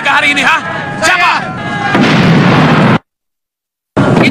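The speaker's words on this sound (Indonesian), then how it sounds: "Ada yang sengaja membakar dan meledakkan gudang kita, Sarkum." A warehouse being blown up: a loud, sustained roaring blast with burst-like crackling fills the first three seconds, cuts to a second of silence, then resumes loudly.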